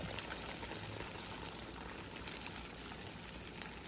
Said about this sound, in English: I pour just enough to cover the whole tortilla